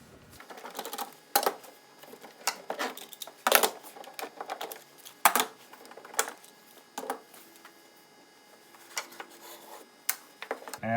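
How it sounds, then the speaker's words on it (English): Clamps come off a glued wooden serving tray in a quiet workshop, with scattered sharp clicks and knocks from metal and wood at irregular intervals, close by and with no talking. "I'm going to remove the clamps and remember the order that they go on."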